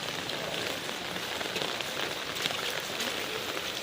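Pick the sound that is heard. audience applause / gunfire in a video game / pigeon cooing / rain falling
rain falling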